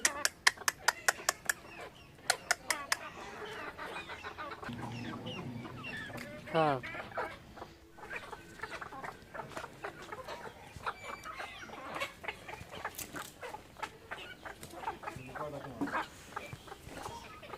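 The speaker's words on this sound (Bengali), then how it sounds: "আমি যে মুরগিগুলো পালি মুরগিগুলো দেখুন" Backyard hens and a rooster kept at home cluck and call nearby in an ongoing chorus, with sharp clicking sounds early on and a brief spoken voice.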